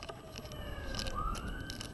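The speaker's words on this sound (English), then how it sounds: "for the sirens in the back." Emergency vehicle sirens wailing on a busy city street corner, faint and distant, with a rising tone drifting through background street noise.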